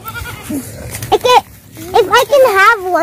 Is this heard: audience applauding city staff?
no